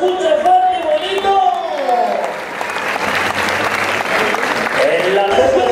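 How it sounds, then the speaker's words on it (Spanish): A crowd at a rodeo event at Rancho La Revoluzion in Ocuituco, Morelos, applauds loudly for the Virgin of the Assumption, a steady wash of clapping and cheering with voices mixed in throughout. "otro fuerte aplauso para nuestra Virgen, sí señor, en la Asunción, que se escuche fuerte y bonito"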